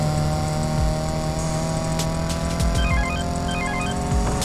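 A car drives in the video game Need for Speed Payback, its engine droning steadily with gear shifts and faint electronic beeps over a continuous, loud game soundscape.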